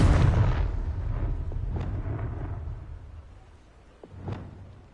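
A Confringo spell explodes in Hogwarts Legacy, a loud booming blast that rolls off into a long fading rumble, followed by a second softer pop near the end.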